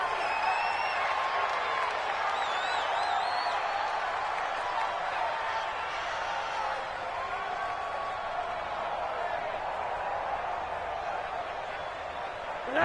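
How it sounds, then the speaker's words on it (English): Dense stadium crowd noise in a football video game roars steadily throughout, a broad wash of cheering and shouting with scattered whistles, loud and sustained without a break. "Listen to this crowd now."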